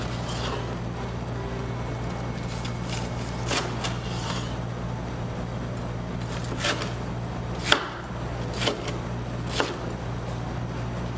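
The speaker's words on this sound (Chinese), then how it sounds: "猪排切小块" A knife chopping a fried Japanese-style pork cutlet into small pieces on a board, several sharp separate chops at uneven intervals over a low steady kitchen hum.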